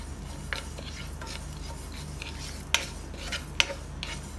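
Sesame seeds roasting in a dry pan, light crackling and occasional sharp metallic clinks of a stirring utensil over a low steady hum, close and quiet, no voices.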